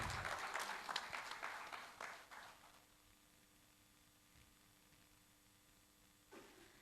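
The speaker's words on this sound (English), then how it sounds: "Round of applause, ladies and gentlemen." Audience applause at an opening ceremony and speeches: steady clapping from a crowd in a hall that fades into quiet room tone, heard at a distance and fairly faint.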